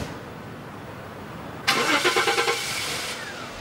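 A car engine cranks and catches abruptly, then runs with a rhythmic pulsing as it pulls away, fairly close and loud over a steady background hiss, with no talking.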